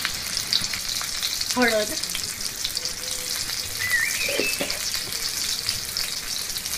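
Green chili split in two and a pinch of asafoetida sizzle steadily in hot oil, a continuous bright frying crackle with brief spatters, while a voice speaks briefly over it.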